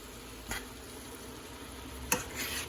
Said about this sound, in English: All right, then we're gonna mix this all together.